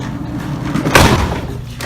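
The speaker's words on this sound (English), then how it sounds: "Fixing the door I just bumped into." A door gets bumped, giving a single dull thud about halfway through against a quiet indoor background, short and fairly close.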